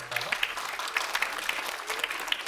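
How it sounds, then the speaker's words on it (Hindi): An audience at a Hindi institute event claps to welcome a guest seated on stage, with steady, moderately faint applause and a voice murmuring underneath. "एक बार जोरदार तालियों से उनका स्वागत।"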